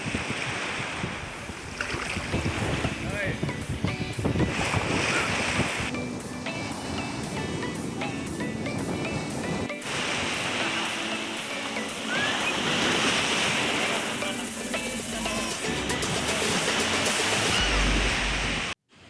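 Strong ocean surf breaks continuously on a beach in southern Thailand's Pattani–Narathiwat coast, a loud, steady wash of crashing waves and foam with no speech, cutting off abruptly at the end.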